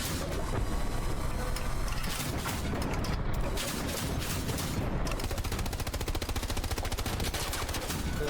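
Gunfire in the World War II shooter game Hell Let Loose: dense, continuous rattling machine-gun bursts and shots fill the whole stretch, loud and close, with no talking.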